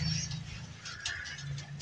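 Pigeons coo in a pigeon loft, low soft calls repeating close by under faint background noise.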